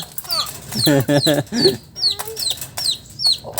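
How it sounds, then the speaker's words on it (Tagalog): A small chicken clucking nearby, a run of short repeated clucks and chirpy calls, fairly loud and alone with no talk over it. "Yung chicken na maliit."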